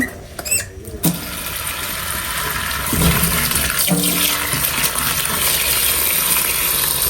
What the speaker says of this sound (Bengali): তো এখন হচ্ছে আমি সবজিটা ধুয়ে নেব সুন্দর করে